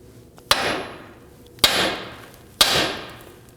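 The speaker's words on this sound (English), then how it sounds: "we're going to go ahead and strike the knuckle right here, and that should release this tie rod end" Three sharp metallic hammer blows ring out on a car's steering knuckle to free the tie rod end on a 2005-2009 Subaru Legacy, each strike followed by a short ringing decay, spaced about a second apart.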